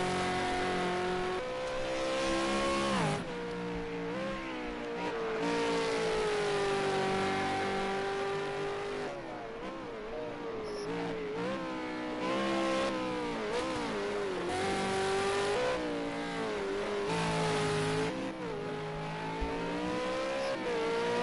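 A race car engine from the Project Cars 2 racing game, practice at Bathurst, drones loudly and continuously with rising and falling revs, gear changes and steady high-pitched whine throughout, no talking.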